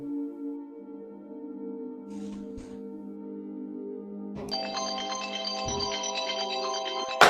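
A phone ringtone plays a steady electronic melody, then shifts to a brighter, fuller tone partway through. It keeps ringing with no voices.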